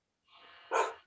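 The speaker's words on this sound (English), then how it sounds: "Yes, that's my pit bull." A pit bull gives a single muffled bark, rising from a soft huff into a short, sharp burst, heard alone at moderate distance.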